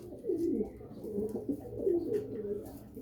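A red-footed fancy pigeon coos in repeated low, throaty rolls near at hand, with a soft background hum and a voice speaking at times.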